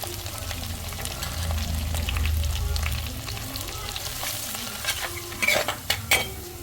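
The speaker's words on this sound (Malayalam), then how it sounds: "വെളുത്തുള്ളി ഉള്ളി അതൊക്കെ വഴക്കാം" Garlic and onion sautéing in a pan: a continuous close sizzle with steady stirring, and sharper spatula scrapes and taps clustering toward the end, without speech.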